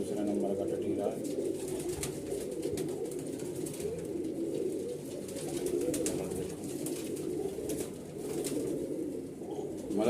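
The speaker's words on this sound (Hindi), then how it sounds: "ये टटीरा कबूतर है।" Tatira pigeons coo steadily in a loft, their soft, overlapping throaty calls running continuously alongside occasional wing rustles, with people talking nearby throughout.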